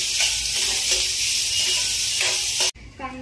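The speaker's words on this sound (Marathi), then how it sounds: "कांदा असा मस्त छान असा लालसर होईपर्यंत असा परतून घ्यायचा स्लो गॅसवर" Onion frying in a pan over low gas, a loud continuous hissing sizzle close up with faint stirring, cutting off abruptly near the end to a quieter background.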